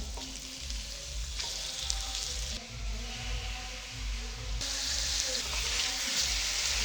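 Chicken pieces fry with onion, ginger and garlic for a chicken stew, producing a continuous crackling sizzle close by, with shifts in intensity as the pan is worked.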